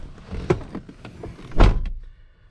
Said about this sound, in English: Oh, it wants me to close the door.